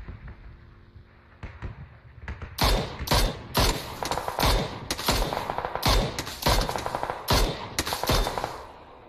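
Video game gunfire erupts in loud, close bursts of rapid automatic shots, with short gaps between volleys after a quieter start.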